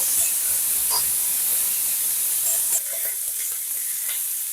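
Tomato and ginger paste fries in a pan for a vegetarian potato and chickpea dal curry, giving a loud, continuous close-up sizzle and hiss with faint scraping, and no voices.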